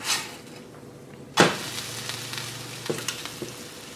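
A bologna and cheese sandwich fries in a pan with a steady, close sizzle, broken by a sharp clatter partway through and a few lighter knocks afterward.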